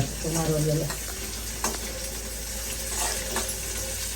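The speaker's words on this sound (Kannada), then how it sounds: "ಚೆನ್ನಾಗಿ ಹುರ್ಕೋಬೇಕು ಕಲರ್ ಚೇಂಜ್ ಇವರೆಗೆ ಸ್ವಲ್ಪ ಬಾಡೋಲಿವರೆಗೆ ಹುರ್ಕೊಳ್ಳಲ್ದ" Ingredients for tambuli frying and being stirred in a pan, a steady close sizzle with short scraping stir strokes, alone without talk.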